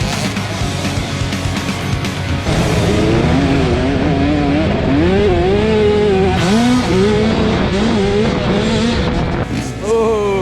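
Dirt bike engines revving hard and loud, with rising and falling pitch sweeps as riders throttle up after a race pass, a constant roar up close with no talk.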